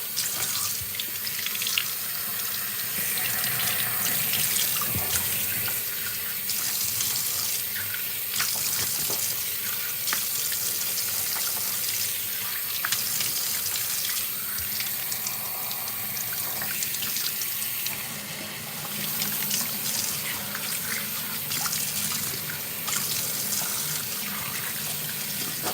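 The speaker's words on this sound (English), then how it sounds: "And now I'm about to rinse it out." Bathroom tap running steadily into a sink as lather is rinsed from a beard: a continuous close rush of water for the whole stretch with small splashes and shifts in flow, no talking.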